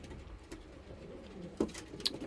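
A racing pigeon coos softly up close, a few low, rolling calls in a quiet loft, with a couple of brief sharper sounds near the end.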